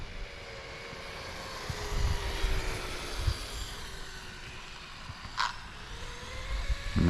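A Losi ProMoto MX RC motorcycle cruising in wheelie mode, a thin whining motor with gently rising and falling pitch, moderately quiet, with a few short bumps and a brief sharp burst near the end.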